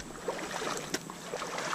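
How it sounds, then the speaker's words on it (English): A small, clean creek flowing outdoors, heard as a close, steady wash of rushing water with light gurgles and soft wind noise, with no voices. "This is actually a impressively clean little stream."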